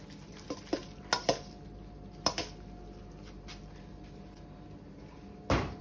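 Spaghetti Bolognese sauce with chopped flat-leaf parsley being stirred in a pan, with a few scattered utensil scrapes and knocks over a low simmering background, ending in one louder clatter.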